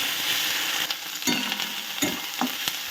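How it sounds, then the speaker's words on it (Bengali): A spice paste of ginger, garlic and green chili fries in a pan with onions while a spatula scrapes and stirs it, soft sizzling broken by several distinct scraping strokes, close and without talk. "মশলাটাকে ভালো করে কষিয়ে নেবো"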